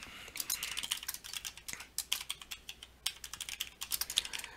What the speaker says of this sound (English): Now I'm going to go ahead and type in the name of the company